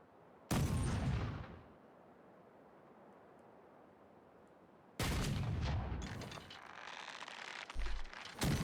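Two heavy cannon broadsides from a pirate ship in a Caribbean Legend naval battle, each a loud booming blast with a long rumbling tail, the second followed by a dense rolling volley of shots and mechanical clatter.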